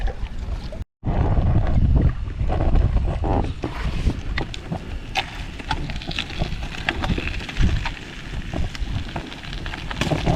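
A small boat pushed by a 3 hp Yamaha outboard motor as it gets up on plane, with a steady loud motor drone mixed with wind and water noise throughout.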